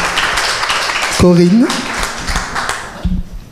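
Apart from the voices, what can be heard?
audience applause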